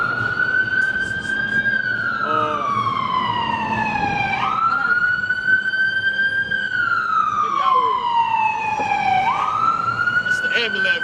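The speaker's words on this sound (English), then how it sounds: "It's the ambulance right there." Ambulance siren on a Brooklyn street, a loud wailing tone that rises and falls slowly in long sweeps, repeating across the clip over steady street background noise.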